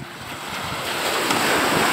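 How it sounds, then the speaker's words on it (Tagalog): Strong ocean waves crash and roar onto the beach at Bagac, Bataan, a dense, continuous wash of surf that swells louder toward the end, mixed with gusting wind buffeting the microphone. "Ang lakas ng ng hampas o yung wave"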